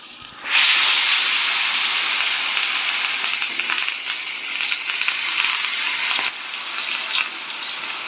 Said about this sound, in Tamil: இப்போ எண்ணெயில் வந்து சிக்கன் லெக் நம்ம போட்டிருக்கோம்.